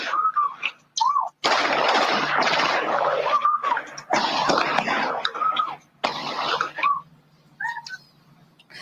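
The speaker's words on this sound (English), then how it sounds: "then you'll hear the gunfire" Gunfire caught on an outdoor street surveillance camera at night as an Uber is followed by a white car, a run of sharp loud bangs alongside car noise and broadband rushing.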